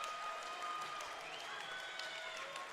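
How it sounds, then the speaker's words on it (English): A home crowd cheers and applauds at a high school wrestling dual as the final seconds wind down, a steady wash of clapping and shouting sustained throughout the short clip. "The Lomira crowd can feel it, and it's becoming more real, Steve."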